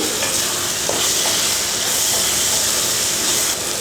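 Curry leaves hit a pan of frying onion, tomato and dried milk shark, giving a loud, continuous broadband sizzle and steamy hiss with faint stirring scrapes, steady throughout with no talk.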